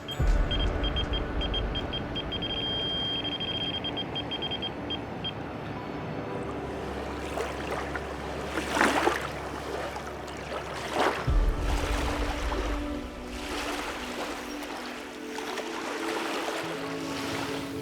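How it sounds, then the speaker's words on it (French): Two large barges passing on the Seine river, one loaded with sand, give a low rumbling engine drone with washing water that swells and surges over time, moderately loud and steady outdoors, no voices. "Il y a 2 grosses péniches qui viennent de passer, dont une chargée avec beaucoup de sable."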